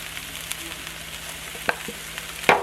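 Chicken sautéing in a frying pan, a faint steady sizzle with a few sharp clinks and scrapes of stirring, close, with no talk.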